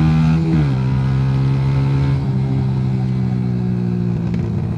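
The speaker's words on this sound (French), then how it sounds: "Et là, à 5000, ça commence à vibrer bien comme il faut." At about 5000 rpm, a vibrating Mash Black Seven 125cc motorcycle engine revs with a loud, close, buzzing drone, its pitch stepping down and rising again a few times.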